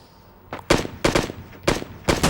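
Four loud, sharp M24 sniper rifle shots from a PUBG Mobile solo-versus-squad match ring out at irregular intervals, each a broadband crack with a short fading tail, with no talking over them.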